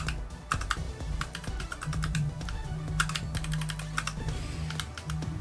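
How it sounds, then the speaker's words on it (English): Rapid keyboard key presses, clattering steadily and close up while a keyboard serves as a game controller during a Tetris Effect: Connected match, layered over a low droning game soundtrack with no talking. "I'm using a keyboard on my end."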